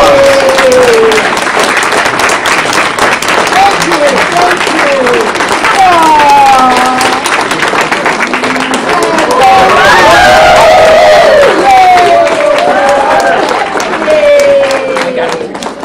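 Audience applause at a real estate association breakfast meeting, steady clapping and cheering filling the room for the full stretch, with voices and chatter running through it.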